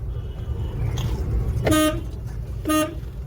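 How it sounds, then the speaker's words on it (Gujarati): Busy night traffic in a small vegetable market street in Mehsana: two short, loud car-horn honks about a second apart sound over a low rumble of engines and street noise. "અત્યારે રાત વખત ટ્રાફિક પણ એટલું થાય ને, જલ્દી નીકળી પણ નહીં શકાતું."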